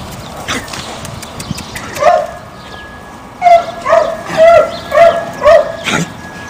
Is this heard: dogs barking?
yes